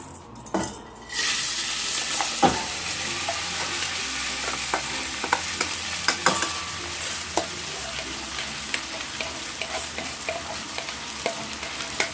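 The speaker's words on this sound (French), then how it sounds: "J'ai allumé le feu, j'ai chauffé l'huile. Je vais mettre du riz dans ma casserole" Rice sizzles and crackles steadily in hot oil in a pot, with occasional scraping stirs and metallic clinks of a utensil against the pot.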